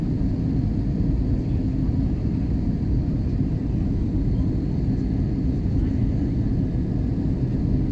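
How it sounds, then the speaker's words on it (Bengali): Steady low roar inside an airliner cabin descending toward landing at Kathmandu at night, a constant dense engine and air rumble with no breaks. "আর অল্প কিছু সময়ের মধ্যে আমাদের ফ্লাইটটি এয়ারপোর্টে ল্যান্ডিং করবে।"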